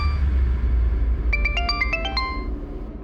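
A mobile phone ringtone plays a short melodic run of bright, chiming tones, rising and stepping in a quick rhythm over a steady low background hum, with no one speaking.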